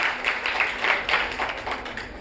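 An audience at a magazine event in a hotel claps in a brief, fairly loud burst of mixed hand claps that keeps going without a break.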